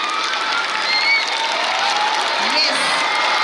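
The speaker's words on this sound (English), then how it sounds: "Cheer our children, come on." A crowd at a school sports meet cheers and applauds the running children, a dense continuous wash of clapping and shouts with voices mixed in.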